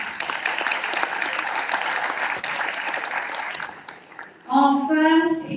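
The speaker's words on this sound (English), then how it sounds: "we need to give him a little round of applause to get us warmed up." Audience applause for a minister at a Sarawak tribal gathering event in Kuala Lumpur, steady clapping from a crowd that fades out before a person speaks loudly.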